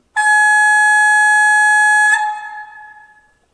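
Signal horn of a 1:32 scale Gauge 1 model DB Köf II shunting locomotive (6297), a steady bright electronic horn tone held for about two seconds and then fading out, loud and close with no talk.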